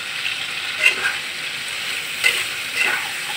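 Spices and pumpkin, for a sweet pumpkin curry with dried fish, sizzle softly in a pan, steady frying hiss broken by a few scraping stirs of a spoon, close and alone.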